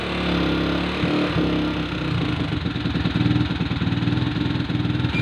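A motorcycle engine with a 28mm carburetor idles steadily, a loud close chugging rumble whose rhythm tightens and quickens as the revs rise slightly partway through.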